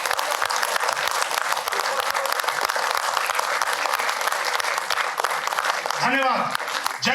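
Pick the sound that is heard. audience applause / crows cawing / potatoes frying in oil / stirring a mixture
audience applause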